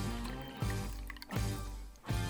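Water poured into a glass, recorded close on a RODE NT-USB microphone, with rising gurgling fill tones in three or four repeated glugging pulses, loud and alone.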